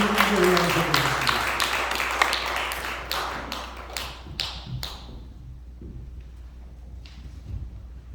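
A congregation claps to welcome a newly ordained pastor at a Presbyterian ordination service in a New York church. The close, lively applause thins to scattered claps within about five seconds, and a few stray taps follow.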